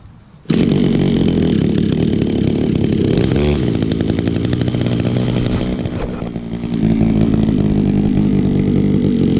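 A loud chainsaw engine on Echo or Stihl equipment runs close by, revving and then bogging down unevenly, sputtering as if about to stall before picking up again.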